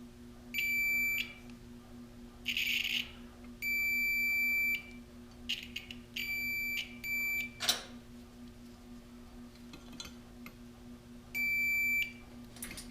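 A continuity tester checks the ground on a 150 go-kart wiring harness, giving a series of sharp, steady electronic beeps of varying length separated by short silences, with a faint handling clatter between them.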